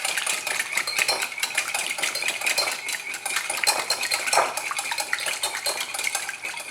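Yogurt and sunflower oil blended together in a bowl, with a busy, continuous clatter and scrape of a utensil against the bowl, loud and close, without any voice.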